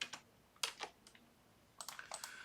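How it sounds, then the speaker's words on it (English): Quick bursts of keystrokes on a computer keyboard, a few clustered taps, a pause, then a rapid run of typing, close and fairly quiet with no talk. "we're going to actually go ahead and type brain break on each page"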